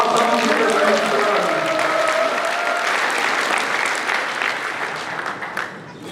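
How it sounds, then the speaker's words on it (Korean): An audience claps loudly throughout at a party members' meeting and provincial chapter chair inauguration ceremony in South Chungcheong, a dense steady burst that thins slightly toward the end, with a voice briefly audible at the start. "박수 한번 주세요."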